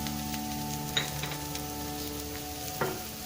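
Shredded cabbage and capsicum fry in a pan for bread roll filling, giving a steady soft sizzle with a couple of sharp stirring clinks, close and without talk.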